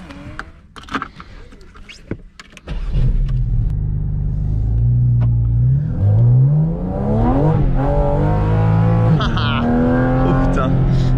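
Porsche Cayman GT4 RS engine on a wet circuit at La Ferté-Gaucher starts up and then revs loudly several times, its pitch climbing and falling over a steady rumble, with short bursts of talk over it.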